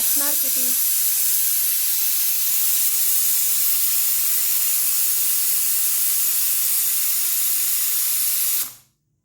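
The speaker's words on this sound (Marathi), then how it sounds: "कारण की ही शिट्टीवरनं मारावी लागते नाही तर हे असं सगळं उफाळतं" A small pressure cooker of rice vents steam through its whistle in a loud, continuous close hiss that runs steadily for several seconds before cutting off abruptly.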